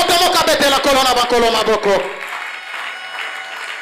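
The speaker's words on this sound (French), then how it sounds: "Que quelqu'un acclame le Seigneur des Seigneurs." Church congregation applauding to acclaim the Lord, loud close clapping and cheering voices for about two seconds, then fading to a quiet room tone.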